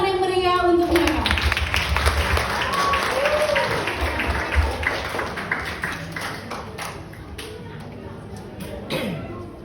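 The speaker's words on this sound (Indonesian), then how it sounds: "Mari kita berikan tepuk tangan yang meriah untuk mereka." Audience applause at a school event for a Grade 3 student performance, steady clapping with scattered louder hand claps that gradually thin out, with a voice heard briefly over it near the start.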